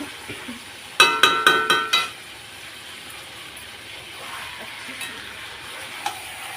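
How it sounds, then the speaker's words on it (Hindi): A spoon stirs desi chicken curry in a kadhai. Five rapid, loud metallic scrapes come in a burst, followed by a few softer, scattered clinks over a low background with no one speaking. "अब इसको थोड़ा चला के ढक देते हैं वापस से।"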